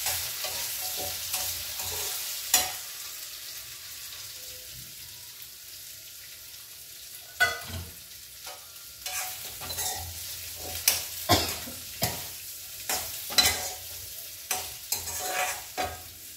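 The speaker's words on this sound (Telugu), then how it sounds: "ఇప్పుడు మనం ఇందులో ఈ ఉసిరికాయలు వేసేసుకుందాం" Indian gooseberries frying in a pan with fenugreek seeds: a steady sizzle throughout, with a run of sharp spoon-against-pan scrapes and clinks as the contents are stirred, close and fairly loud.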